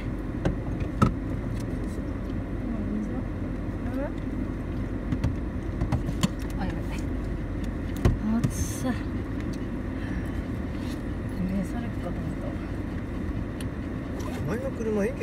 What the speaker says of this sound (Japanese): エンジン入ってるよ。